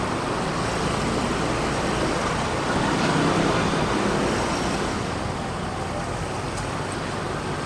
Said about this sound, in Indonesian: Ternyata padat ya lalu lintasnya sampai macet gini.